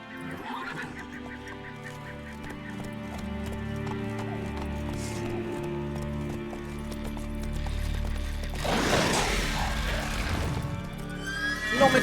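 A horse in The Witcher 3 video game whinnies and snorts over rhythmic clip-clopping hooves, with a louder burst of neighing near the end and game music or ambience underneath.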